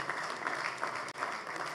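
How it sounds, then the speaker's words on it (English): Steady applause from an audience at a bank's annual general meeting, a dense, even patter of many hands clapping at moderate distance, sustained throughout with no voices over it. "Let's give him a round of applause."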